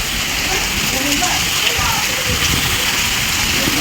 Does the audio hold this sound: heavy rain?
yes